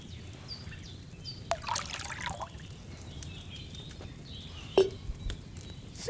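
Wine trickles from a pitcher into a cauldron in Kingdom Come: Deliverance 2, a soft thin dribble running over a faint ambient bed with birdsong and a couple of sharp knocks, no talking.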